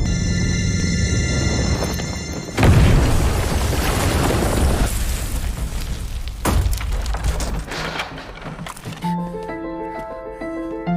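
A loud, sudden blast bursts out, followed by a long rumbling, crackling aftermath with scattered debris-like pops and a ringing tone near the end.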